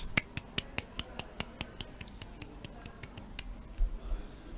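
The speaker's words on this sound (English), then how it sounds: "Sounds a bit sad when I just clap by myself." A single person claps alone at a store employee-of-the-month announcement, about a dozen sharp, evenly spaced claps that thin out near the end over faint room noise.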